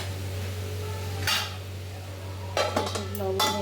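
A lid goes onto a cooking pot of potatoes seasoned with cumin, bay leaf, turmeric and salt: a metallic clink, then a few clattering knocks and scrapes over a steady low kitchen hum.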